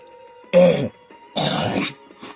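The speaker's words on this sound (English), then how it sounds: "excuse me, I had to cough." Two hoarse coughs, close and loud, separated by a short pause, with a faint third one trailing after, over a quiet hum.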